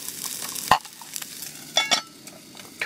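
Sausage patties fry in a pan on a camp stove during an outdoor breakfast hike, a soft sizzle broken by a few sharp scrapes and clinks of a utensil against the pan.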